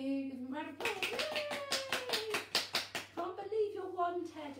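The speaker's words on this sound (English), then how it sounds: "Give him a round of applause." Small hands and adults clap rhythmically at a library rhyme time after a first-birthday song, with quick, bright claps under cheerful voices and a drawn-out sung cheer.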